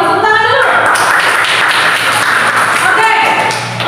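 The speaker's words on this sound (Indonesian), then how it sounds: "tepuk tangan dulu" A classroom of students claps together in a dense, continuous burst of applause that stays loud and steady throughout, with a teacher's voice faintly mixed in.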